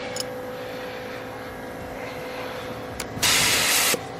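A spray gun laying a coat of paint on the interior of a DA9 Honda Integra gives one short, loud burst of steady hiss that starts abruptly and cuts off under a second later, over a low background hum.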